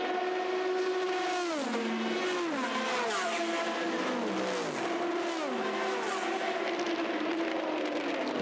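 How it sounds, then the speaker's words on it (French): Porsche, Ferrari and Corvette GT race cars at the 24 Hours of Le Mans 2019, engines screaming at high revs with repeated downshifts as they pass in a steady stream, loud and continuous. "la Porsche de Lorenz Vanthoor, hein, donc la voiture de tête en GT Pro"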